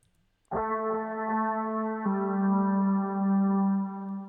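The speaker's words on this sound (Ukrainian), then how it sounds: "З нового в нас тут додається гітара ще одна, яка у соло звучить ось так." An electric guitar with a distorted, effects-laden tone plays long, sustained notes, shifting to a lower held note partway through, loud and alone.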